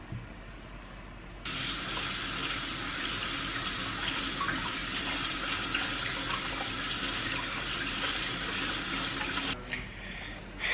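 Running tap water pours steadily into a sink while food for homemade bakso is washed, a loud continuous broadband rush lasting about eight seconds before cutting off abruptly.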